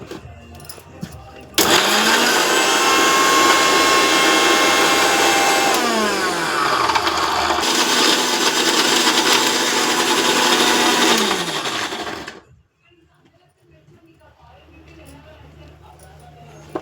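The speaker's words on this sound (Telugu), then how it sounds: "తర్వాత మిక్సీ కట్టుకోవాలి." A mixer grinder grinds soaked tamarind with turmeric, starting abruptly with a loud steady whirring roar that shifts pitch midway, then cuts off and leaves quiet room sound.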